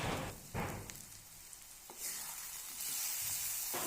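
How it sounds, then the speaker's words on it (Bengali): Rohu fish head curry with ginger, cumin, green chili paste and Kashmiri chili powder sizzles in a pan while being sautéed, a steady close frying hiss broken by a few stirring scrapes. "এইবার খুব ভালোভাবে কষিয়ে নেব"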